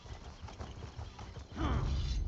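A horse in the video game Elder Scrolls Online, with soft rhythmic hoof clip-clops at first, then a louder burst of movement and a brief snort or whinny near the end.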